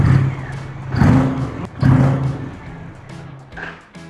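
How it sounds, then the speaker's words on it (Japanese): A deep, throaty Indian Challenger motorcycle engine rumble with low pulsing exhaust tones, rising and falling in waves, steady and fairly loud throughout. "こっちのマフラーから聞こえてくるのぶといサウンド"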